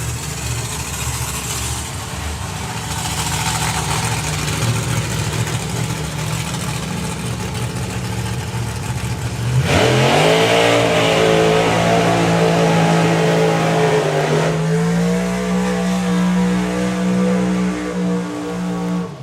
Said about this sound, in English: rolling round underneath the tower are going to be side-by-side Doorslammers from the northern part of Europe